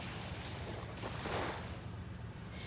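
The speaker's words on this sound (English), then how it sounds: "Make sure you can hear me over the waves." Ocean waves wash in a broad, continuous rush with a swell near the middle, with wind noise mixed in.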